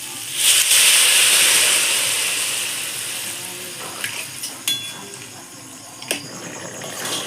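Water poured into a hot pan of Bengali curry sizzles and hisses loudly, the steamy rush fading over several seconds, followed by a few sharp clinks of utensils against the pan.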